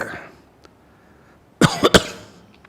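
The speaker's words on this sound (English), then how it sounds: "After a little cough because my throat needed some attention" A brief cough, then a couple of quick throat-clearing coughs from one nearby person in a quiet room, following a stretch of near silence.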